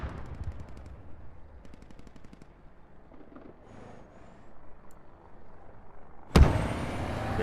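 Vehicle-mounted 30 mm cannon firing in the video game Squad, a loud close burst at the end, preceded by rapid distant gunfire and battle rumble, with no speech.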